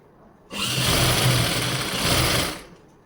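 An electric sewing machine stitches salwar pleats in a single burst of about two seconds of rapid, buzzing whir, close and clear, starting abruptly and trailing off quickly in a quiet room.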